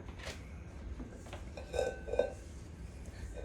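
A spatula scrapes and clinks against a bowl while mixing a buckeye candy mixture, soft scattered taps and a couple of sharper clinks over faint background noise.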